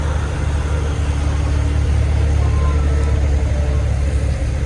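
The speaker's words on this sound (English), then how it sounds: "You can hear the engine, that's a two-stroke V8 Johnny diesel" A 1980 K144 truck runs its English two-stroke V8 diesel at a truck parade, giving a loud, steady, deep engine drone that stays constant through the whole stretch.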